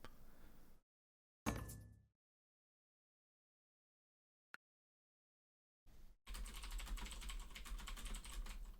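Computer keyboard typing during a ranked online board game session, heard in two dense bursts of clattering keystrokes, a short one early and a longer steady run at the end, separated by near silence.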